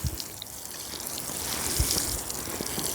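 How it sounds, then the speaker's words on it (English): Water poured onto garden pea and fava bean plants in Alaska, a soft continuous splashing trickle that grows slightly louder, close by with no talk. "Probably wind up putting about 6 gallons of water on these today."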